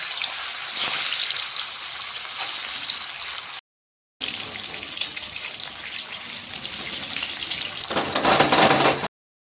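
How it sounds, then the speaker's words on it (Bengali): Paneer cubes frying in a pan for a poppy-seed paneer dish give a steady, close crackling sizzle that breaks off briefly midway, then returns and swells louder near the end. "আমি পনিরটা একটু ভেজে নিলাম"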